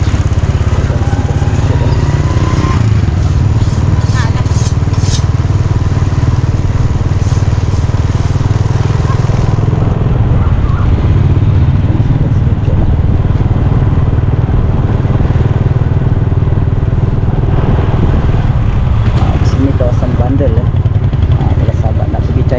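A motorcycle engine drones loud and constant, close by as it is ridden toward a morning market in Pandamaran, with a steady rumble throughout and voices faintly underneath.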